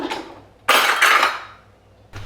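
Clattering metal cookware on a home stovetop as a pan of milk is set down and handled, two sharp bright clanks a moment apart with a ringing tail, then a third knock at the end, no talking.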